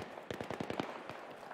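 Grenade launcher fire in Battlefield 3 crackles out as a rapid series of sharp, popping bursts, about eight close reports in quick succession, then a couple of trailing pops.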